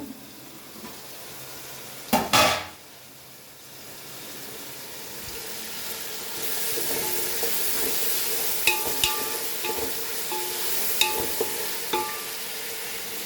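Marinated chicken is added to onions in a pot and settles into a steady, faint sizzle, with an initial loud clatter and a few scattered clinks from stirring as the frying continues.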